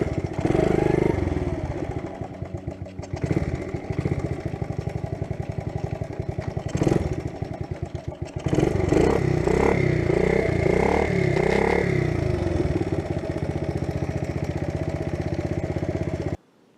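A Honda CT70 motorcycle's small engine runs steadily and loudly up close, its revs surging and dipping with uneven, hopping clatter as first gear slips in and out, with no talk over it.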